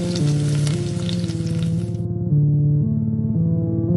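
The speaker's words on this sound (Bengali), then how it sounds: "মিতা সাধু বাবার দেওয়া তেলে মাছ ভাজতে লাগলো।" Fish frying in hot oil makes a steady sizzle under loud, continuous music, and the frying hiss cuts out about halfway through while the music carries on.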